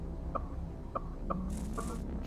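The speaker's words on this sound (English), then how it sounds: "Get out of here, crows." Bird calls from the video game Hyper Light Drifter, four or five short cawing or clucking chirps spaced evenly, fairly faint against a low ambient game hum, with a brighter hiss entering near the end.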